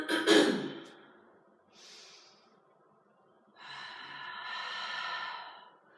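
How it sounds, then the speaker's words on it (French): Breathing during a Pilates exercise: a sharp nasal snort-like inhale up front, then a short faint breath and a longer, soft, drawn-out exhale, all close and without background noise. "Allez, encore 2 respirations."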